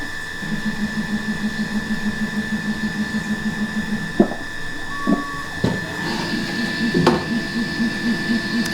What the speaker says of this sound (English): And now the threading end mill.